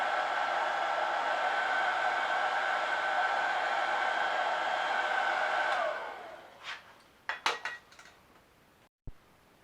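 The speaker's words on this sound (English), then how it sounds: "So I got a medium duty heat gun." A medium duty heat gun blows steadily on a rubber hose, a loud, even fan-and-air roar that runs for about six seconds before cutting off, followed by a few clinks and handling noises.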